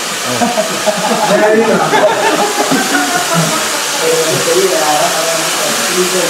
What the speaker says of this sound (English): The one with the blow dryer.